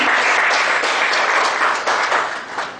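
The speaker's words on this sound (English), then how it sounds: "Big round of applause." Attendees at a professional seminar on audit reports give a round of applause, a dense burst of clapping that holds steady and then thins and fades toward the end, with no voices over it.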